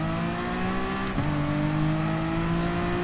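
A Gr.3 race car's engine in Gran Turismo Sport at Spa in the rain, a sustained steady drone that climbs gently with a brief gear-change dip partway through, loud and alone.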